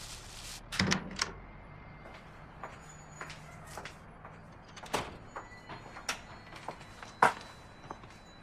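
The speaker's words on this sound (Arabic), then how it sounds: "هو الباب اتفتح واتقفل؟" A door opens and closes indoors, a few soft knocks and latch clicks scattered among quiet room noise and light shuffling, fairly faint and close.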